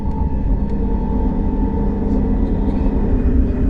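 A KTX high-speed train enters Bangcheon tunnel in Daegu's city section, giving a steady, loud low rumble and rail drone with a faint high tone on top.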